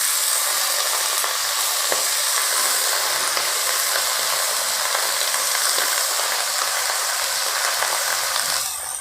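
Chopped pui greens are stirred into onions fried light brown in a pan, giving a loud, continuous sizzle with scraping, ratcheting stirring that runs unbroken throughout.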